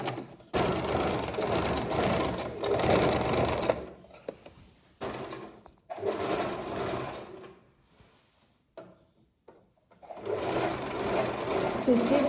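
A sewing machine stitches the folded edge of sharara fabric in several loud rapid whirring bursts, stopping and starting with short quiet gaps, close up.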